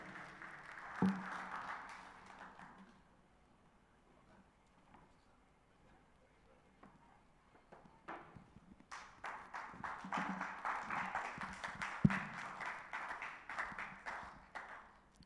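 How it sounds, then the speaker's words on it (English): An audience claps to welcome a speaker at the NSLC 2025 launch event: a brief patter of clapping, a quieter gap with a few taps, then a fuller, sustained round of applause swelling toward the end. "please help me with a round of applause to welcome Mr. Ido Enang to share his thoughts with us this morning"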